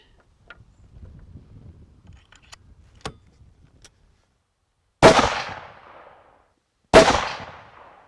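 Two loud rifle shots from hunting ammunition ring out at a shooting range, each a sharp crack trailing off into a long echoing decay, spaced about two seconds apart after a stretch of faint handling noises.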